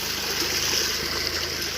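Rainwater running down the walking steps of a rubber plantation after two days of rain, a steady broadband rush like a small stream or cascade, close and continuous throughout.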